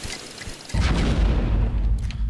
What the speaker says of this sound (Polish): Bomby? To wybuchnie, na pewno.